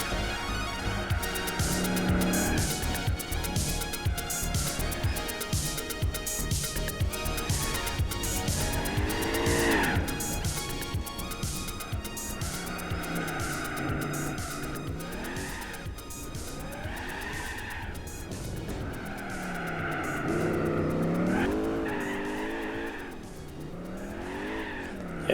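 Buick in Gran Turismo 4 video game, tires squealing and skidding in long wavering screeches over a steady engine drone, loud and continuous with rising and falling pitch.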